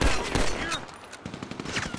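Bursts of gunfire in GTA 5 during a prison escape, a few quick loud shots and rattling volleys close up, with brief voice sounds around them.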